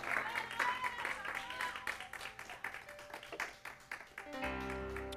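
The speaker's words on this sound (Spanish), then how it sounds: "si le vas a dar un aplauso, dale un aplauso que estremezca la casa" A church congregation clapping during a service, a dense rapid patter of many hands close and lively for several seconds before fading out, with a sustained tone and voices underneath near the end.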